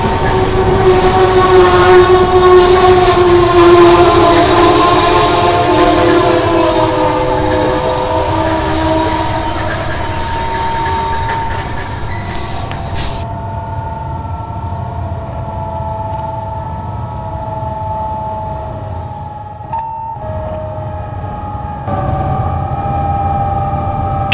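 An Amtrak OBX passenger train pulls in with loud, sustained wheel squeal and tonal horn-like whines close by, the screech fading partway through before the train rumbles to a near stop.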